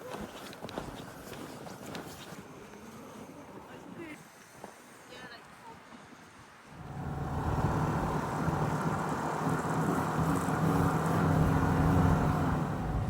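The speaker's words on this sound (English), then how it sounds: "I'm already geared up for the snowmobile ride." A snowmobile ride across a frozen Finnish winter landscape: a quieter, uneven stretch gives way to a louder, steady engine roar that holds for the rest of the ride.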